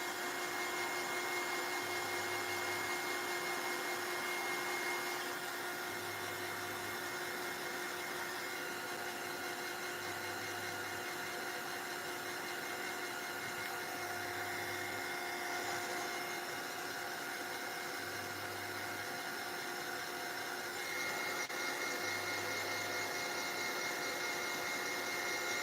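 Heat tool drying craft materials for a mixed-media card challenge, blowing a steady, continuous whooshing hum that stays at an even loudness throughout, with no talk over it.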